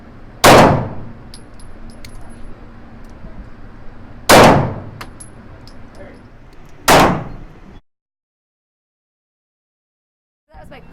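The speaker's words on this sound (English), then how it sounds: "this is going to be my first time firing the G19 Gen 5" Three loud, sharp reports from a Glock 19 Gen 5 handgun fired at a shooting range, spaced a few seconds apart with ringing decay, followed by a brief silence.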